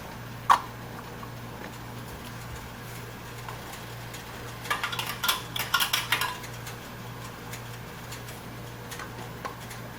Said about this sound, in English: next step is to place the lids on them